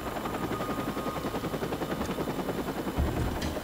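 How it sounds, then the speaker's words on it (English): Helicopters in the video game Watch_Dogs give a steady, rapid rotor thump at moderate level. Faint game noises sit beneath it, and a short louder burst comes near the end. "Now what about these helicopters?"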